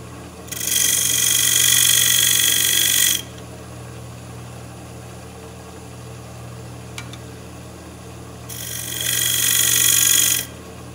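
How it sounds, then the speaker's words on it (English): Square scraper cutting the lip of a juniper bowl lid on a wood lathe, two loud bursts of scraping a few seconds each over a steady motor hum, separated by a quieter stretch. "Just going to make the lip for the lid using my square scraper."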